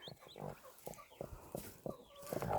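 Several chickens cluck in short, irregular bursts nearby, soft and scattered across the clip.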